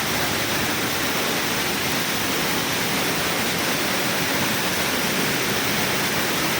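Inside a cave behind the falling curtain of a waterfall on Khao Phu Taben, a dense, unbroken roar of crashing water fills the space, loud and even throughout.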